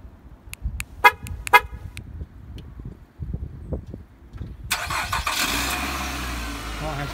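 A 2015 Nissan Altima starts with a push button: a few short chimes and clicks, then the engine cranks and catches into a steady idle close by, with a voice talking.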